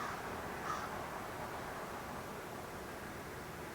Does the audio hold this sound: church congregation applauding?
no